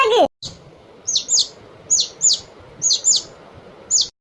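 Cartoon hens clucking and squawking in a poultry farm, a run of short bright calls in paired bursts at a steady rhythm, close and clear after a brief opening sound.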